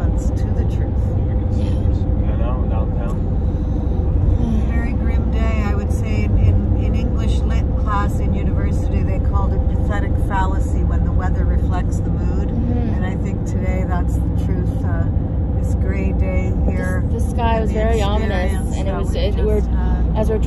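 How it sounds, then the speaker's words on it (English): A car drives along a road toward a refugee center in Osa, its engine and tyre rumble rolling steadily and loudly underneath a person talking throughout. "We're driving up to that refugee center in Osa."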